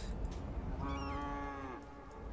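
A cow in a city-building video game lets out a single drawn-out moo of about a second, heard over a steady low background hum.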